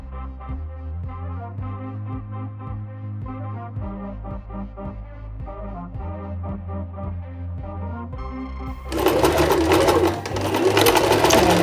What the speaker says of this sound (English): to try and stop that coming and getting caught in the machine